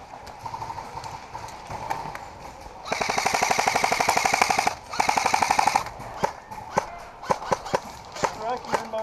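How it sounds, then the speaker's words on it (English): Paintball guns fire in rapid, rattling bursts at a swamp paintball field, two sustained strings of shots with scattered single pops before and after, close and loud, with voices calling out around them. "He's shooting at us."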